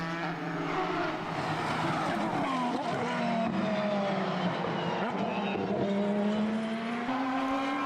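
A World Series Nissan race car engine roars past at Mondello, a loud sustained howl with rising and falling pitch as the car accelerates and shifts, filling the whole stretch with constant engine noise.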